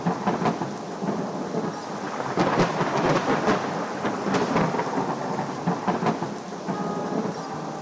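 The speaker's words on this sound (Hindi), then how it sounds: "आसमान गरजने लगा और धरती कांप उठी।" Deep rolling cartoon thunder rumbles through steady heavy rain, with sharper cracks swelling midway before fading back into the downpour.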